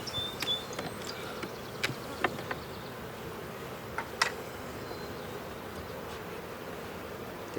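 Honey bees buzzing around a hive, a close, steady low hum with a few louder bees passing by and faint ticking sounds.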